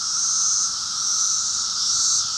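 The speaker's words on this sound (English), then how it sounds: "That noise you're hearing is the mating call of a billion randy cicadas looking for love." A loud, continuous buzzing drone of a huge cicada chorus mating call, a steady high-pitched whine with a lower band beneath, unbroken throughout.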